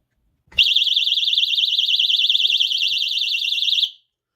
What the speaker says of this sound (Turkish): kapı şuradaki mandal itmeye başladığında alarm çalıyor